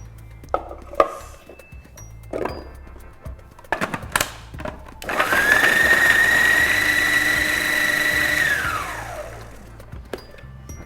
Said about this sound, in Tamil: பூண்டு, தக்காளி, வெங்காயம் அதெல்லாம் ஃப்ரெஷ்ஷாக போட்டு அப்படியே அரைக்கிறது